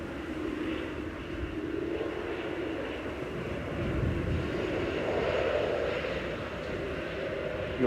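A TUI Boeing 787-9 airliner arriving at Manchester Airport from Larnaca on flight 2459 makes a broad, sustained engine roar at a distance, swelling slightly in the middle before easing.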